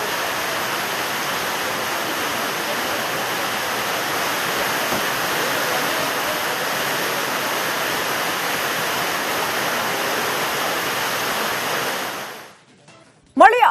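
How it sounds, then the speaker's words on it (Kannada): Heavy rainwater pours and leaks inside the renovated Koppal railway station, a steady, loud broadband rush of water running for about twelve seconds before cutting off abruptly. "ಸೋರ್ತಾ ಇದೆ ಎಲ್ಲ ಕಡೆ."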